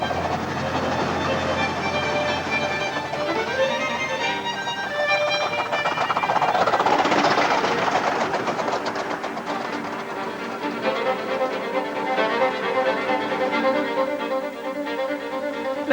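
A narrow gauge steam train rolls past with a rumbling, clattering wheel rhythm that swells to a peak midway and then recedes, steady and fairly close, with no voices.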